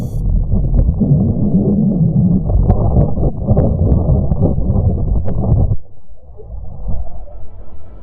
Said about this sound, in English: That was the sound of the Earth's magnetic field as recorded by the Italian Spring Accelerometer on